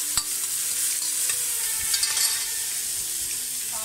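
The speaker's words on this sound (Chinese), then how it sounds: "将蒜末倒入油中爆香" Minced garlic sizzles hard in hot oil in a pan, a bright continuous hiss close by with a sharp tap at the start and a few faint scrapes, no talking.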